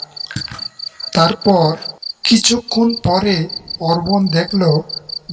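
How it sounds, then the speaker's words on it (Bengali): Crickets chirp at night in a steady, high, unbroken trill that runs beneath a storyteller's narrating voice. "চারিদিকে নিঃশব্দ আর ঝিঝি পোকার ডাক"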